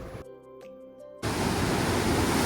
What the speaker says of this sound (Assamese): আপোনালোকে দেখিছে নদীৰ কিমান সোঁত